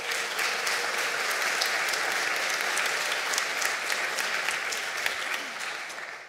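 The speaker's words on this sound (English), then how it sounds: "Let's give her a big clap." An audience at the Oakhaven concert gives steady, full applause for a singer after her folk song, the dense clapping holding even and close throughout before easing at the very end.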